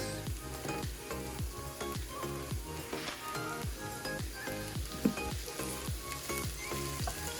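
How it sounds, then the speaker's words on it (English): Mushrooms, onions and garlic sautéing in a pan make a steady sizzle beneath rhythmic background music, with occasional faint stirring clicks. "now same thing, just saute the mushrooms, onions, and garlic all together, like so"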